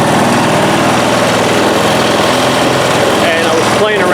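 The small engine of a DR Powerwagon dump cart runs steadily, loud and close with a buzzing drone throughout, while a person talks over it.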